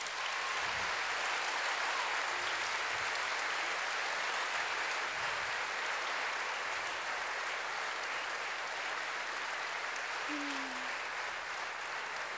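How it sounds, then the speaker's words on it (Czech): Steady applause from a school audience filling a hall during an anniversary academy at a primary school in Zlín, continuous dense clapping heard from a distance at moderate level. "A samozřejmě potlesk."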